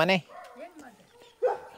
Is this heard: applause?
no